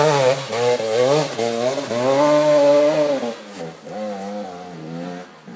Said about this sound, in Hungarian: A húzaber, a láncfűrész.